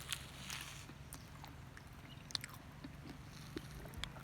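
Someone bites into and chews a mithivedi roll filled with egg, chicken pieces, potato and onion, giving soft crunchy bites and steady close mastication with a few sharper crunches.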